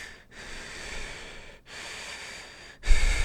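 Heavy breathing close to the mic in three long, raspy exhalations separated by short pauses, the last one ending with a louder, rougher gust.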